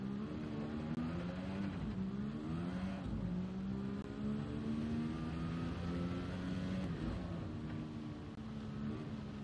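Race car engine in Gran Turismo 7 holding a steady, loud drone with small pitch dips as the throttle is feathered and eased back on through corners, with no talk over it.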